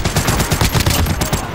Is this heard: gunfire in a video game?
yes